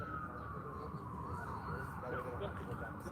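An emergency vehicle siren wails at a distance near Denver Health, a steady descending tone holding over low city rumble and faint background voices.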